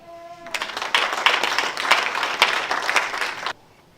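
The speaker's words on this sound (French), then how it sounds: "Si on comprend, on peut applaudir." A church congregation claps together for about three seconds, the dense applause starting abruptly after a short tone and stopping just as suddenly into near quiet.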